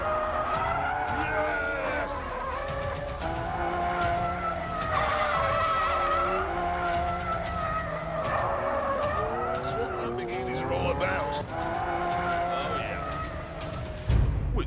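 Lamborghini Aventador doing a prolonged burnout, a continuous loud tyre squeal and skid with a roaring V12 engine rising and falling in pitch, steady and close throughout with voices talking over it.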